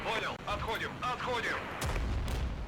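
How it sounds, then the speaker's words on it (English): Rocket artillery strike in the strategy war game Regiments: a quick succession of launch and impact blasts, loud and close, followed by a deep rumbling roar, with voice-like chatter mixed in. "Let's order up some rockets."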